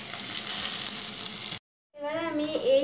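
Eggplant slices sizzle steadily in hot cooking oil, a loud continuous crackle for over a second before stopping abruptly; a voice then speaks briefly.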